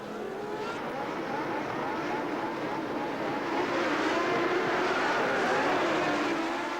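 Formula 1 race cars from the 1982 season drone as a steady, distant wash of engine noise, with a slowly drifting pitch over a continuous roar.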